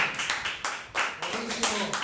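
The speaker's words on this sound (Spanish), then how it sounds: "Quiero dar un aplauso a Jesús, por favor, vamos" A church congregation claps in a brisk, uneven rhythm, close and fairly loud, with voices faintly mixed in beneath the hand claps.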